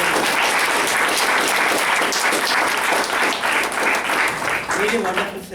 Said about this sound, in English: So, I request everyone give a big round of applause.